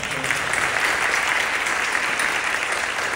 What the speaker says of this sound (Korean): 두 분 목사님에게 사랑하고 또 격려하는 박수 해주시기 바랍니다.